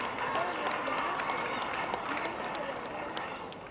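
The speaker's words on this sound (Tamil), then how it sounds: "உதவும் கரங்கள் நண்பர்களுக்கு மிகப்பெரிய கைத்தட்டல் கொடுங்க" Audience applause at a children's Diwali celebration, a dense steady wash of clapping and crowd noise that stays loud and even throughout.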